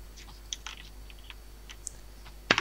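Sparse keystrokes on a vintage mechanical keyboard with smooth Cherry MX Black switches, a few soft clicks spread out at close range and then a sharper, louder cluster of key presses at the end.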